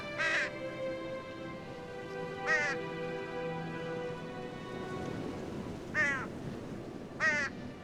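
Crows caw in four short harsh calls spaced a few seconds apart, moderately near, over a soft steady background hiss that sounds like light rain.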